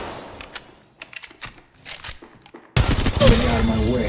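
Gunfire from the mobile shooter game Apex Legends Mobile: scattered clicks and short shots, then a loud, dense burst of automatic fire that carries on to the end.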